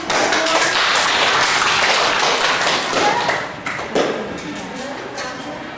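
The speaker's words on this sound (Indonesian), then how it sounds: "Tepuk tangan dulu." Students clap their hands together in a school Islamic religious education classroom, a dense burst of claps that thins out after about three seconds, with voices mixed in.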